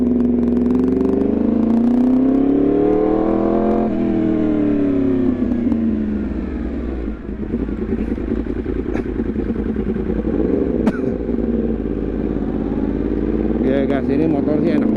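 A Yamaha R1 60th Anniversary sport bike with a modified setup revs loudly up and down close by, its rising and falling engine pitch filling the clip while someone talks over it.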